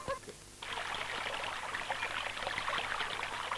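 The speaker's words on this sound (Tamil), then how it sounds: "ரெண்டு பக்கம் தண்ணி ஓடுது" Water runs in a steady, close, bright trickling rush that starts abruptly after a brief quiet moment and continues evenly to the end.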